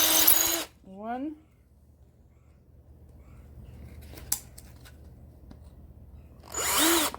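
Power drill boring holes into an orchid mount, with short whirring bursts at the start and end, a rising motor whine between them, and quiet handling noise in the pauses.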